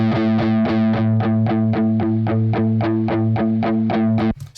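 Electric guitar played through a Positive Grid Spark amp with a distorted, effects-laden tone, a steady run of repeated strummed chords in an even rhythm, loud and close, with noticeable background hiss, ending in a brief scrape.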